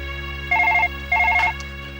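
A telephone rings for an incoming call in two clear electronic trilling bursts, close and alone over a low background hum.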